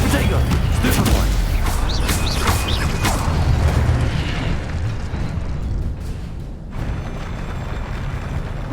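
Hogwarts Legacy spellcasting combat: a loud, dense burst of magical blasts and rumbling impacts for the Stupefy spell, steady and heavy throughout, with a voice speaking over it.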